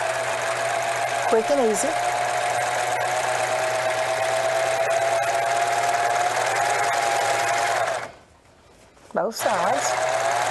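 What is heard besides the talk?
serger overlock stitching through all fabric layers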